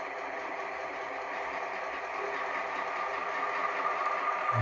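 A pair of HO scale GP38-2 model locomotives run with a faint, steady electric motor whir and light mechanical hum that swells slightly toward the end, no talking.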